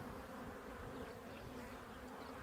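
Dense, steady buzzing of many honeybees at an open hive during an inspection, a continuous close swarm drone with no pauses and no voices.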